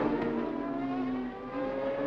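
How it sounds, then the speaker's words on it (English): Onboard sound from a 2001 CART race car as it brakes and downshifts, a loud steady engine roar with the pitch falling, close and continuous, with no voices. "Dixon setting up now for braking and downshifting."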